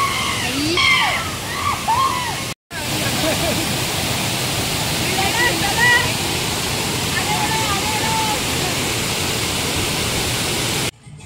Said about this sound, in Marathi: भारीच धबधबा भारीच